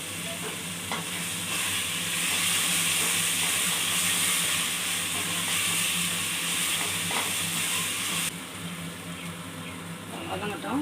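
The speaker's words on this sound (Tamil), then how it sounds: "இப்போ நம்ம கருவாடு சேர்த்துக்கலாம்." Dried fish fries in a pan with onions for a rice dish. A loud, steady sizzle and hiss carries stirring scrapes, a voice talks over it, and the sizzle softens slightly near the end.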